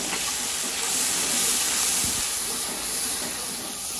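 Potatoes dropped into a hot pan set off a steady, loud hiss of sizzling oil that holds evenly for the few seconds, with no voice over it.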